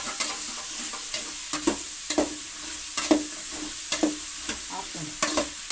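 Bitter gourd pieces fry in a pan for tamarind gojju while a spoon stirs them, giving a steady low sizzle broken by regular scraping strokes, close and alone with no talking.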